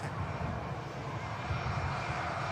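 An aircraft engine on a nearly 50-year-old airframe out from Gloucester at Manchester Airport, a steady, distant broadband roar that holds evenly throughout with no talk.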